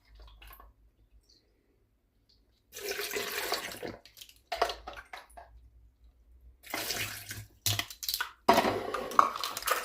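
Water is poured in bursts into a mix of orange and lemon for juice shots, several splashing pours separated by quiet gaps, close and moderately loud.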